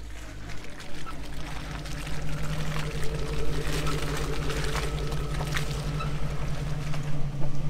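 A Jeep stuck in water revs and churns forward, a steady engine hum under splashing, gurgling water that grows louder toward the end.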